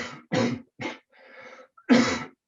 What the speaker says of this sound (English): I have to cough, hold on.